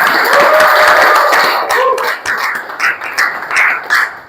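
Classroom audience clapping during an Islamic education teaching practice session, a loud dense burst at first that thins into scattered separate claps as it trails off.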